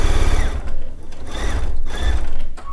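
A sewing machine stitches through a quilt in quick, even mechanical bursts, close and loud, with short pauses between runs.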